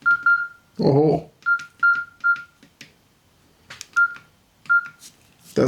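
A Nokia 6760s mobile phone plays a ringtone of short, bright electronic beeps in an uneven rhythm at maximum volume, with a brief voice partway through.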